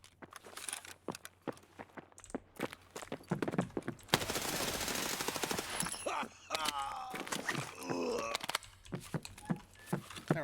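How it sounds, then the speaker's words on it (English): Bursts of rapid video game gunfire crackle in the middle, surrounded by sharp single shots and clattering effects, with a voice speaking intermittently. "Ah, gunshots!"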